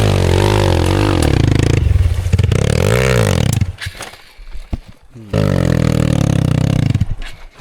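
A nearby enduro motorcycle engine runs loud and buzzy, revving up and down with rising and falling pitch, dropping briefly toward a clattering idle before revving hard again, with no talk over it.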